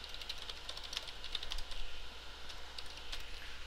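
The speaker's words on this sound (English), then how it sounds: "So you just type in your domain." Typing a domain name on a computer keyboard, with steady rapid key clicks running throughout at close range over a quiet background.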